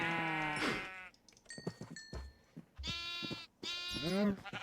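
Sheep in Minecraft bleat repeatedly, several clear, fairly close wavering cries following one another with short pauses, with no talk over them.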